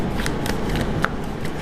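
Tarot cards shuffled by hand during a reading, a continuous soft riffling and flicking with a few sharper snaps, close and moderately loud with no talk over it.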